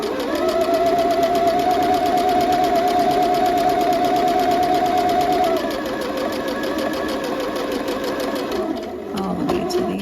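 A sewing machine runs a continuous loud whirring stitch along a 5/8-inch seam on fall joggers, its pitch shifting partway through and then halting with a few clicks at the end.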